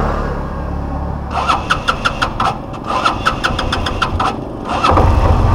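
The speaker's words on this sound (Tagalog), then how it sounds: "Ayaw umandar, malamig ang makina." Cold tricycle engine being cranked, a rapid series of sharp rhythmic starter strokes in two bursts before the motor catches and settles into a loud, close, steady run.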